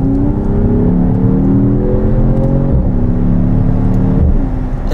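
A sports car accelerates hard and shifts up through the gears, each rising engine whine dropping at the shift points near 2.7 and 4.3 seconds. The sound is loud and close.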